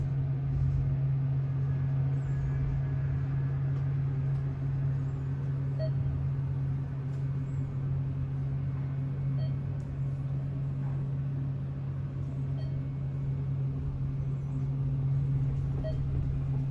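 An Otis hydraulic elevator car rides up, giving a steady low hum and rumble with faint rattles and bumps throughout, continuous and fairly close.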